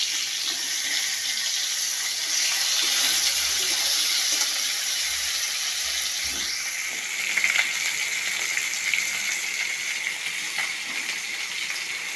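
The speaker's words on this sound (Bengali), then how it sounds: "তো চলো মাছগুলোকে ভালো করে ভেজে নিই।" Hilsa fish frying in a home kitchen pan, a steady broadband sizzle and hiss running the whole time at moderate level, with a few faint clinks and no talk.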